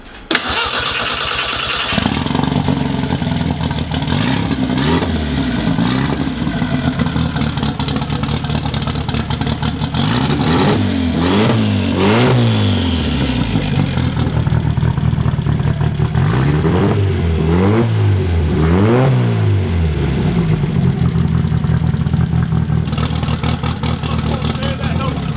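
A turbocharged four-cylinder Datsun engine fires up for its first start, then revs hard in repeated loud, close bursts that rise and fall between stretches of rough idle, with voices heard now and then.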